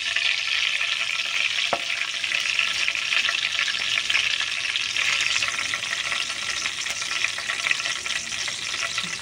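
Chopped ivy gourd pieces fry in a pan with a steady, close hiss of sizzling oil, stirred continuously throughout with no talking.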